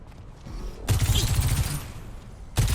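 Sojourn's railgun in Overwatch 2 releases a charge shot as a sudden loud burst of crackling energy, sustained for over a second before fading, with a second sharp blast right at the end.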